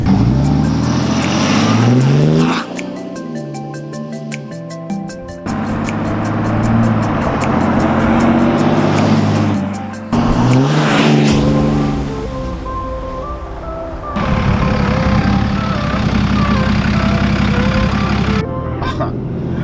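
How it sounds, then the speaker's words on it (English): Turbocharged truck with a freshly overhauled 68RFE transmission, engine roaring loud and close through repeated revving pulls, pitch climbing and dropping between shifts as the turbo spools up. "As soon as you hear that turbo start to spool, you know it's coming."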